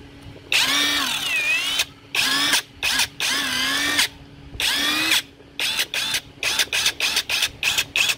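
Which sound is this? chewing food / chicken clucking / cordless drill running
cordless drill running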